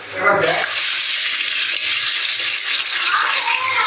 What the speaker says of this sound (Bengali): পেঁয়াজ ভাজা ভাজা হয়ে গেছে মাংসটা দিয়ে দিই